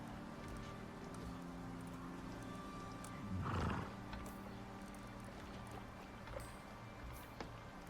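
A horse whinnies and snorts once midway through in the video game Icarus, over a steady ambient game background with faint hoof clatter.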